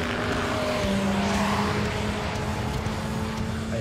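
A V8 biturbo car at full throttle on a straight, its engine roaring loudly and steadily with a rising tone as it accelerates hard, close to the listener.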